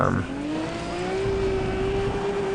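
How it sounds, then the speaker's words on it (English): A Toyota Supra drift car in the racing game Need for Speed ProStreet, its engine note climbing then holding as a steady whine over a broad tire-and-road roar. "You can see I'm in a Toyota Supra, all done up for drifting"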